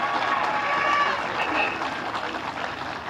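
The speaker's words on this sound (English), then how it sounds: "another round of applause for the Marist" Crowd applause at an under-20 open championship grand final prize-giving, a steady wash of clapping and cheering mixed with crowd noise throughout, fairly loud and continuous.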